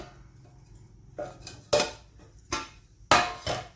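A metal lid is lifted off a pot of cooking dough on a gas stove, making a series of four or five sharp clanks and clinks close by, with quiet pauses between them and no speech.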